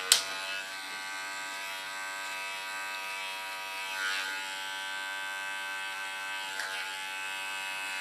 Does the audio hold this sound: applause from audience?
no